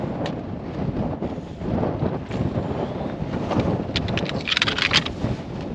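Gusty wind rushes and buffets the microphone continuously on a Scottish mountain ridge in the Mamores, a rough low roar rising and falling with no clear speech.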